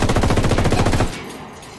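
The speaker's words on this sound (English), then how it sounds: "I'm shooting these fuckers." Rapid automatic gunfire from a Ghost Recon Wildlands firefight, a loud, dense burst of rhythmic shots lasting about a second before cutting off into a fading tail.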